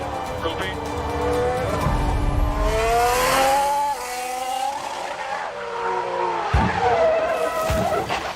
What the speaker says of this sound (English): Well, he's gone off. Like, the wheels come off his car.